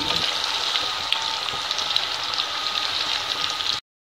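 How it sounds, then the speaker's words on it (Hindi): Fish fries in oil in a pan over a medium flame for fish pulao, a steady close hiss and crackle of sizzling that runs evenly without talk and then cuts off abruptly. "मीडियम फ्लेम पे आपने इसको पकाना है मछली को।"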